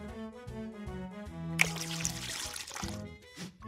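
Water pours out in a short burst in the Max & Ruby Bunny Bake Off game, measuring one cup over bright musical tones, then trickles briefly and stops.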